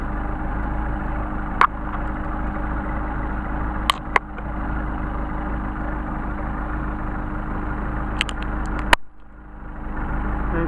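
A Mercedes 190SL engine with Solex carburetors idles steadily at about 700 RPM, a low continuous rumble with a few light clicks and a brief dip near the end.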